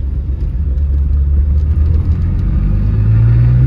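A Lamborghini Countach engine drones steadily from inside the car, a deep rumble building toward the end as it accelerates, with no talking.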